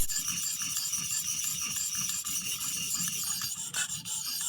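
A WE Banter pocket knife blade drawn across a 600 grit sharpening stone, a close, continuous gritty rasp with quick repeated strokes and a brief louder scrape near the end, no voices.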